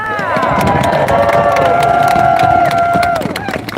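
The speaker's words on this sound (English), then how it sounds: "give them a big round of applause" A rally crowd cheers and applauds loudly in Ottawa, with sustained whoops and shouted voices over the clapping, swelling briefly and then fading toward the end.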